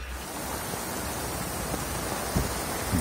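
Steady rain falling during the June rainy season in Panama, a dense even hiss with a few heavier drops hitting a surface, close and continuous.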